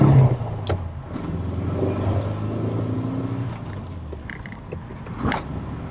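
Vintage home-built VW Beetle driving along with its engine droning steadily nearby, the rough low rumble swelling and easing as it moves, with no voices.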